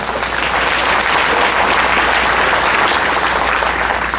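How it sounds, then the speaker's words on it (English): Sustained applause from guests at a fundraising gala honoring a corporate sponsor, many hands clapping in a full, steady roar that stays loud and even for about four seconds. "Please give them a round of applause."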